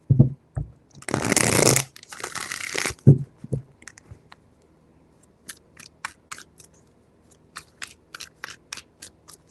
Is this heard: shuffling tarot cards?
yes